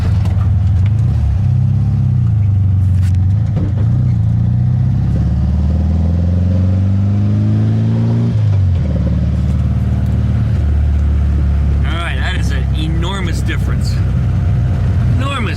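A badly running 1974 VW Beetle engine drones loudly while driving, its pitch climbing and dropping through gear shifts, with a loose clatter near the end; a voice talks over parts of it.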